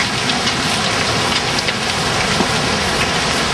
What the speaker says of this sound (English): And it is hailing and thundering